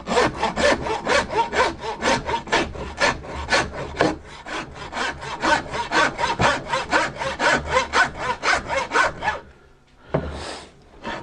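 A hand saw cuts through a deer hip bone during home butchering, its steady rapid back-and-forth strokes rasping loud and close for about nine seconds before a short pause and one last burst.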